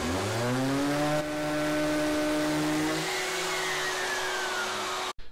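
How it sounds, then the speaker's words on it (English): A power sander works wooden parts for a benchtop shave horse, giving a steady motor whine whose pitch shifts partway through before cutting off abruptly near the end. "I'll hit them with a sander and we'll be all done"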